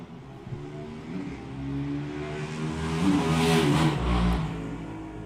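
Cars driving past and revving, a rising engine drone with harmonic whine that swells and peaks near the end, heard alone without talk.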